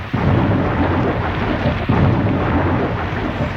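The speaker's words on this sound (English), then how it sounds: "it started to rain and lighten and thunder in a very dreadful manner" A heavy thunderstorm pours down rain in a steady, loud roar with low rumbling thunder underneath, holding dense and unbroken for the whole stretch.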